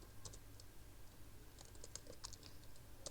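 Quiet, close keyboard typing while code is entered on a computer, with irregular clusters of soft key clicks spread across the clip.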